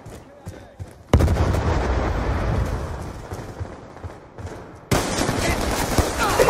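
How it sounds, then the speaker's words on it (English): A Hellstorm missile strike in Call of Duty Black Ops 2 multiplayer, on the Yemen map, lands as a sudden loud blast followed by rumbling booms and gunfire, with a second sharp burst near the end. "Friendly Hellstorm missile inbound."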